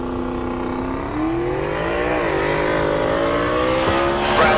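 Two Ford GT Mustangs tear down a drag strip at Heartland Park Topeka, their engines roaring loud with rising pitch as they pull through a gear change.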